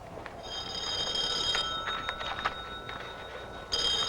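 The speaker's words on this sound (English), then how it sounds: "Will you answer your phone," An old-fashioned telephone bell rings in repeated bursts from a vintage monster comedy film, a bright metallic trill that stops briefly and then starts again, with no one talking over it.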